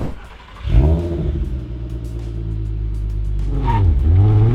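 A Nissan R32 with an aftermarket performance exhaust drives off, its engine rumbling steady and loud, then revving upward with rising harmonics near the end.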